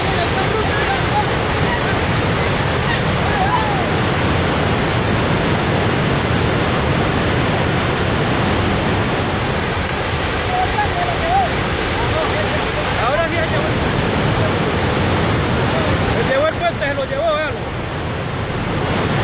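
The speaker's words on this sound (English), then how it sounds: "these crazy footages of flash floods from different parts of the world" Flash floodwater rushing in a loud, constant roar of churning water that stays dense throughout, with faint voices briefly heard beneath it.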